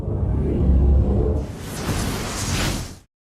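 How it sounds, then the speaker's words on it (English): A long cinematic whoosh sound effect, a sustained roaring rush of noise lasting about three seconds that brightens and swells midway before cutting off abruptly. "long whooshes"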